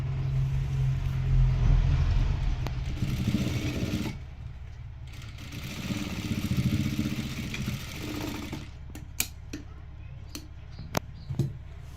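A sewing machine stitches the border of a lehenga, its steady motorised whir running continuously at close range, dropping away briefly partway through before resuming, with a few sharp clicks near the end.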